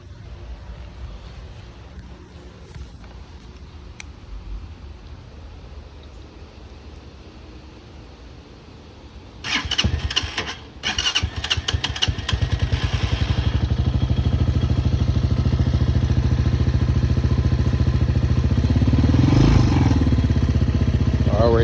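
A Hawk 250cc motorcycle kicks into life after a quiet stretch of faint rustling, with a few stuttering bursts before settling into a loud, steady idle close by.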